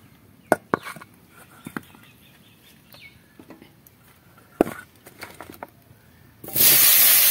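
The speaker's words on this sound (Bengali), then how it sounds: "এবার এই তেলের মধ্যেই আমি এই যে 3টে আলু কেটে রেখেছি, আলুগুলো দিয়ে দেব" Cut potatoes dropped into hot oil for a Bengali fish roe dish, a loud close sizzle bursting in near the end after scattered small kitchen clicks and knocks.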